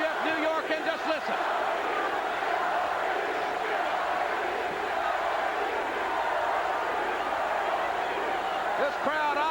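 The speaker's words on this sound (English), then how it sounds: "This crowd obviously very, very solidly behind Hawk and Animal, the Legion of Doom" A packed WWF wrestling arena crowd in New York roars and cheers steadily, a dense wall of sustained noise with scattered shouts and whistles rising above it, loud and continuous throughout.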